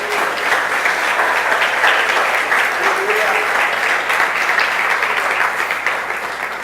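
A church congregation applauds together in steady, dense clapping that holds for several seconds, with a faint voice or two under the applause.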